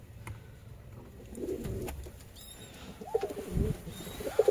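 Pet pigeons kept in a home loft, breeding pairs nesting, give soft, low coos in a few short bursts, fairly quiet, with faint chirps and background noise around them and no talking.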